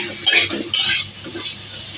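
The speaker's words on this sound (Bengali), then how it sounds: "এখন টমেটো কুচিটা দিয়ে দিচ্ছি" A spoon scraping and clinking twice in a pot of khichdi as chopped tomato goes in, close and crisp over a faint low sizzle.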